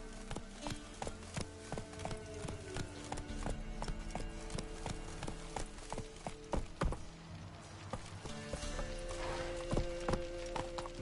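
Roach, the horse in The Witcher 3: Wild Hunt, gallops with steady, evenly spaced clip-clop hoofbeats, close and prominent over ambient game music, continuing throughout.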